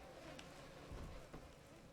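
A swarm of bees released as an attack in the video game Bioshock 2 gives a faint, continuous buzzing drone with a couple of soft thumps, without talk over it.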